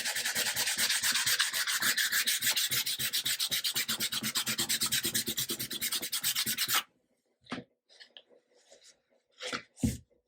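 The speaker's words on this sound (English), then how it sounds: "go back over with the 400 grit sandpaper to start smoothing out some of these lines" 400-grit sandpaper is rubbed in quick, even back-and-forth strokes over the plastic headstock inlay of a 1954 Gretsch Synchromatic guitar. The close, rhythmic rasping stops abruptly, leaving a few faint taps and handling knocks.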